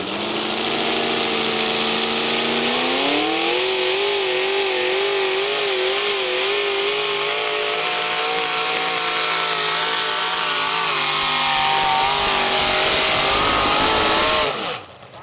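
A pulling tractor with twin 505 big block Chevy engines roars loud and close at a truck and tractor pull, revs climbing then holding at a high, harsh wail before cutting off abruptly at the end.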